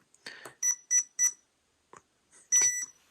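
An RC car's electronic speed controller, converted to run a 3S battery, chirps a quick series of short high electronic beeps in an uneven pattern, close and fairly quiet, with no talking.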